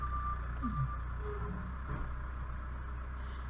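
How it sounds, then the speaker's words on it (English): A reversing vehicle outside sends out a steady series of beeps, muffled and distant under a constant low rumble with brief chirps early on. "Now there's beeping outside."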